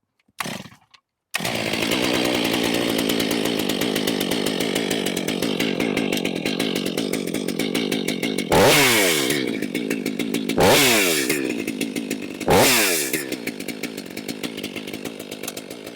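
A brand-new Stihl 500i chainsaw fires up after a brief start-up sound and settles into a loud, steady idle, with three sharp throttle revs rising and falling near the end.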